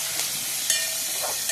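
Curry leaves dropped into hot tempering oil sizzle with a steady, close, loud hiss and a few brief crackles.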